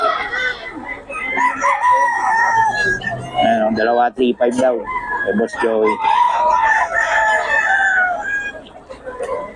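Several roosters crow repeatedly, loud and close, over someone talking, with clucking chickens around.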